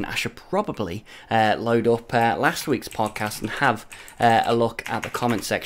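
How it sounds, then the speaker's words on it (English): Clicking of a mechanical keyboard in a gaming podcast setting, soft and buried beneath continuous close-up male speech. "You could probably hear my mechanical keyboard clicking away in the background."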